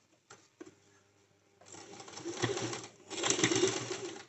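A sewing machine stitches a cigar pant: a couple of faint taps, then the motor whirs into a rapid run of stitches, pausing briefly before a second loud burst.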